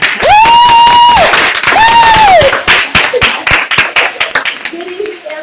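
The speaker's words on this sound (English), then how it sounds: "Clap, clap, clap, clap." Hands clapping at the start of a live online business show: loud cheering and clapping with voices first, then clearer individual claps continuing in an uneven rhythm as the crowd noise settles.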